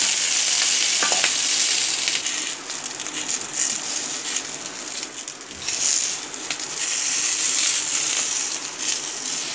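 Capsicum sautéing with soya chaap in a pan gives a steady, close sizzle and fry hiss, with scraping stir strokes and brief clinks running throughout.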